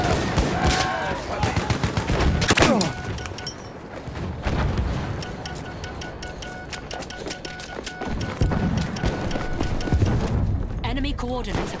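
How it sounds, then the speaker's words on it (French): Enemy machine gun fire rattles in a Battlefield 1 night battle at Nivelle, rapid bursts and scattered gunshots amid loud chaotic combat noise, with voices calling out over the fighting. "Mitrailleuse ennemie."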